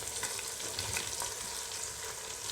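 Chicken frying with garlic, ginger and chopped onions, a dense, close, continuous sizzle with light crackling throughout and no voices.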